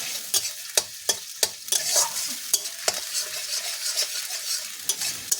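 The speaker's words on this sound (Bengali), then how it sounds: "ভেজে নেবো।" Spice paste sizzles in a hot pan while being stirred, with a steady fry hiss broken by repeated sharp scraping clicks of the spoon against the pan, close and clear.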